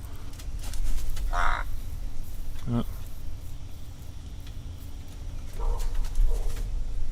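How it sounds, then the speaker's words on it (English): A toucan outdoors gives short throaty frog-like croaks, a few separate bursts spaced across the stretch against a steady low background hum, with a person talking nearby. "making frog noises"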